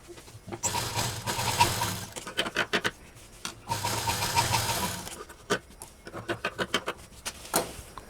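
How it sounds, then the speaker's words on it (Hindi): A sewing machine stitches a fabric sewing machine cover in loud, rapid whirring runs, broken by short pauses and a string of quick clicks between bursts. "साइड से भी हमने सिलाई दे दी और अब इसको हम किनारे कर देते हैं।"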